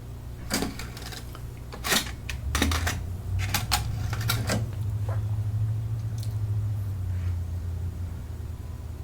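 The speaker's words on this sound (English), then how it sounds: "Now I'll stop it and eject and write the" A Sony MDS-JB940 MiniDisc deck ejects a disc and writes its table of contents, heard as a run of sharp mechanical clicks and clunks up close, followed by a low steady motor whir, with no voices.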